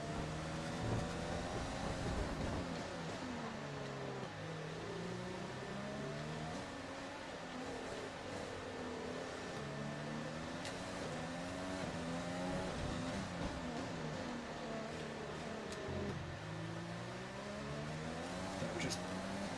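Formula 1 video game race car on old hard tyres, engine note continuously rising and falling through gear changes under steady commentary from someone talking throughout.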